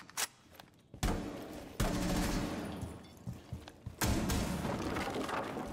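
Gunfire in Rainbow Six Siege, with several sharp bursts of automatic fire, the loudest starting at about one second and again near four seconds, separated by heavy thuds and mechanical clatter.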